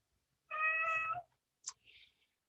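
A vocal pet cat gives one drawn-out, close meow, followed by a couple of brief faint rustles.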